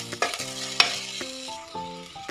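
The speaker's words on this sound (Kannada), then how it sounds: "1 ನಿಮಿಷಗಳ ಕಾಲ ಇದೆಲ್ಲ ಫ್ರೈ ಆಗಲಿ." Onions with ginger, garlic and green chilies frying in a pan for paneer butter masala, a bright steady sizzle with a few quick scrapes and knocks of the stirring spoon, close, while a low droning hum runs underneath.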